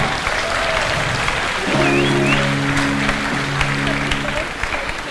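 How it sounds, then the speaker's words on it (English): An audience applauds itself at a live talk, a broad wash of clapping that carries through the whole stretch while steady tonal hum lines sit underneath. "So I'd like you to give yourselves a big clap."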